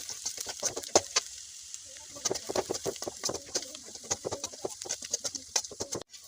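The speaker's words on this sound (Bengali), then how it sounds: "মরিচ পেঁয়াজ ভাজি হয়ে গেছে" Chili and onion frying in a pan, giving a close, steady crackle with sharp irregular pops throughout, with no voices.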